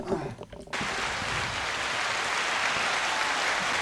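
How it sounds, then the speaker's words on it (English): A studio audience on a podcast-style show breaks into applause after a brief spoken moment, then keeps up a steady, full round of clapping to the end. "Let's get an applause for that"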